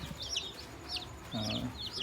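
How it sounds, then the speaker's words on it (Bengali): High, rapid peeping of young tiger and broiler chicken chicks, repeated in short bursts, close by, with a low murmur of clucking underneath. "এটা হচ্ছিল টাইগার মুরগির বাচ্চা আর এটাও আর কি আর এটা হচ্ছে বয়লার মুরগি বাচ্চা"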